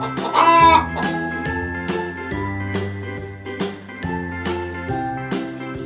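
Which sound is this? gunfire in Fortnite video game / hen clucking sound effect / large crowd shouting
hen clucking sound effect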